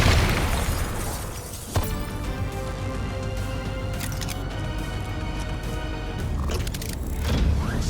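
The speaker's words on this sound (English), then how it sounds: "They're about to detonate!" Robots detonate in a Call of Duty Black Ops III cutscene: a sharp blast hits, then a long booming, ringing roar with metallic tones sustains and swells again toward the end, with no talk over it.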